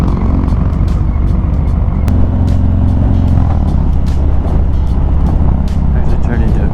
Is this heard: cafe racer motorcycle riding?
yes